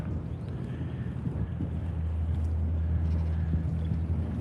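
Steady low wind rumbling across the microphone at Pier 39 on San Francisco Bay, a continuous buffeting roar with gusts swelling midway, heard alone without voices.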